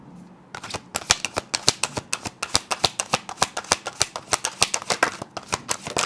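Tarot cards shuffled by hand in a quick, close series of crisp snapping flicks, steady and rhythmic, with no voices over them.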